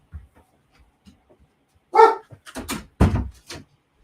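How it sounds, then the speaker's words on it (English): A dog indoors lets out a few sharp, close barks in a short irregular burst after a quiet stretch, with no talk. "He's barking and he doesn't even know why he's barking."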